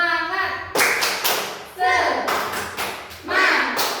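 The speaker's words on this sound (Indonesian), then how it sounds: "Ada yang tahu tepuk semangat?" A teacher and a class do the rhythmic 'tepuk semangat' clapping chant in a classroom, with sharp bursts of claps in a steady pattern alternating with voices chanting between them.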